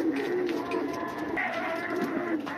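Pigeon pairs coo nearby in soft, repeated throaty murmurs, overlapping one another in a continuous low warble.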